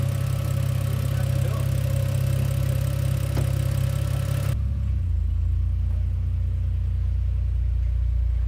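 A Ford BA XR6 engine, rear exhaust section missing, idles loudly with a deep, rough rumble and a steady drone, its tone shifting lower partway through as it keeps running.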